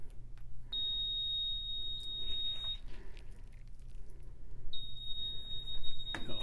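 A Hotbox egg incubator sounds a high, piercing alarm tone because its sensor probe is unplugged, in two long sustained beeps separated by a gap, with faint handling noise between them.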